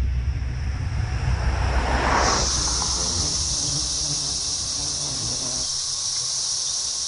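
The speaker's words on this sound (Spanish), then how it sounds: "Se trata de la cigarra periódica." Periodical cicadas chorus in a mass emergence, a dense, steady high-pitched drone that swells and holds loud and continuous throughout, with no talking.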